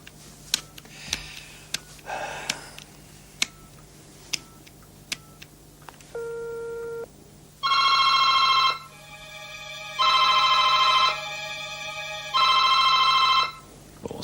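A telephone rings in several loud, spaced bursts of electronic trilling, each lasting about a second, after a stretch of faint ticks and clicks in a quiet room.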